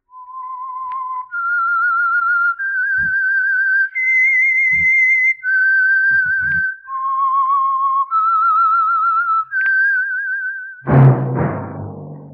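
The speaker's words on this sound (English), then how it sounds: "That whistle is your signal for the Signal Oil Program, The Whistler." Whistled theme of the 1940s Whistler radio drama, a lone clear melodic whistle moving through a series of sustained rising and falling notes, followed by a brief burst of orchestral music.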